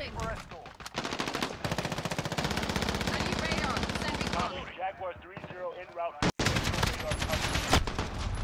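Video-game automatic gunfire in Call of Duty Modern Warfare multiplayer: a long, loud, continuous rapid-fire burst, a short lull with a voice, then another sustained burst after a sharp cut.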